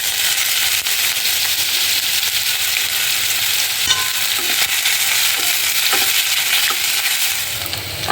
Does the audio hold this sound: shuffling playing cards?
no